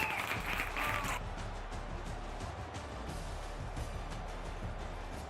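A stadium crowd applauds and roars in the College Football 26 video game, a steady, broad wash of clapping and cheering that runs throughout, moderately loud but distant.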